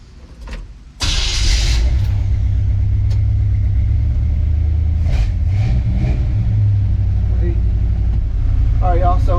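A 1966 Chevrolet C10 short-bed truck, back on the road for the first time since 1999 after an automatic transmission fluid top-up, starts with a sharp burst and then runs at a loud, steady idle and drive rumble, with a few clicks and a voice briefly over it.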